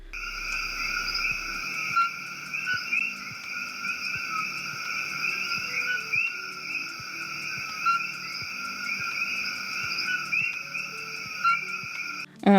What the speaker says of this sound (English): if you don't know what the coqui is, it is a frog native to Puerto Rico that sings